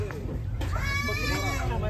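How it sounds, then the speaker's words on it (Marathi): Goats bleat in wavering, nasal calls that rise through the second half, close by at an animal attraction on a trip in Thailand, with people talking over a steady background murmur. "बड़ी बकरी कहाँ है?"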